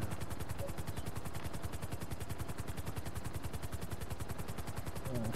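A slow helicopter in the GTA Online video game, its rotor thumping in a steady, rapid beat that stays constant and fairly loud throughout, with no talk over it.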